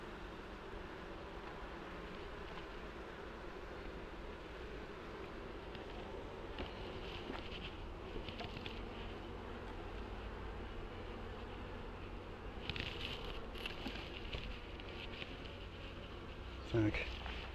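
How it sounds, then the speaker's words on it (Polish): Agitated honeybees at an open hive buzz as a dense, steady drone that stays close and fairly quiet, swelling slightly near the end, with a brief knock at the close. "Zamkniemy z powrotem, bo widzę, że pszczoły się denerwują."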